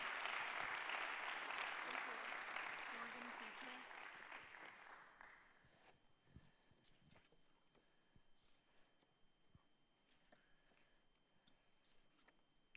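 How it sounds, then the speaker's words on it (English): Applause at a school board meeting for student athletes, strong at first and then thinning out after about five seconds into scattered claps, shuffling and small room noises. "Huge round of applause for these outstanding athletes."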